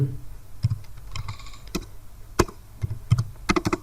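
Keys tapped on a computer keyboard, a quick irregular run of light clicks with brief pauses, close and fairly quiet, no voice over them.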